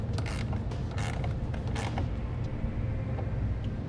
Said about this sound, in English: I'm going to grab a 9/16 wrench and tighten it the rest of the way down